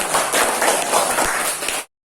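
Classroom applause from elementary teacher-training students, a dense steady patter of many hands clapping close by for about two seconds before stopping abruptly.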